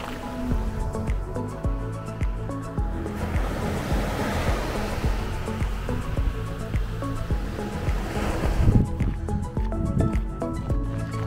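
Waves washing onto a beach, a continuous rushing surf with bubbling, draining water and swells that rise and fall, heard close and fairly loud.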